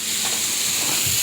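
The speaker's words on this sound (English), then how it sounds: "I got some bacon in there cooking. I'm getting that to sizzle up a little bit" Bacon fries in a pan, giving a steady, close crackling sizzle with a constant hiss throughout and no voices.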